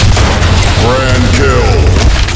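Grenade blast in the Blackshot shooter game on the Sand Storm map: a loud, dense roar of rumbling explosion noise filling the whole clip, with a brief in-game voice callout over it.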